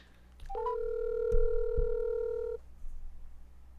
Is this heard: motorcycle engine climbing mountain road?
no